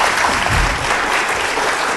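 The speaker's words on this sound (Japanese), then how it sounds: "皆さん拍手をお願い" An audience at a Japan National Press Club meeting with the Iranian ambassador claps together, steady dense applause from a room of people throughout the brief moment.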